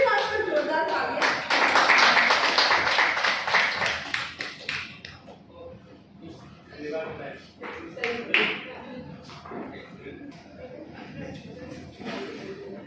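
Audience at an evening gathering bursts into loud applause for about four seconds, then the clapping thins and fades beneath murmuring and scattered room noise.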